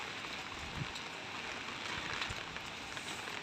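A soft, steady hiss of rain in Kolkata falls continuously in the distance, faint and even, with no voices.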